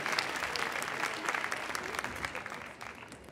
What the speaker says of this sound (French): qu'on va entendre vos applaudissements retentir pour saluer la présence irlandaise